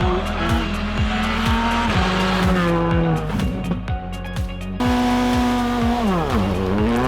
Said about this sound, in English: Stuart Maloney and Christian Yearwood in their Skoda Fabia.